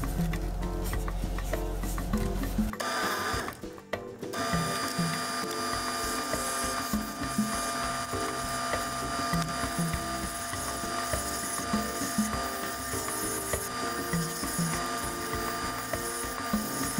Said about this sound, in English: we've got a bunch of sanding done to it now